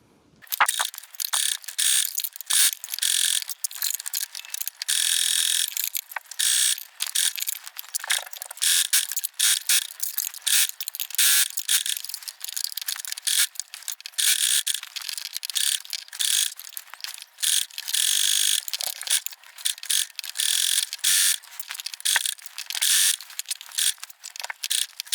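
A sewing machine running a zigzag stitch on swimsuit fabric, a continuous fast mechanical whirring and clicking that carries on nearly unbroken for the whole stretch, close and steady.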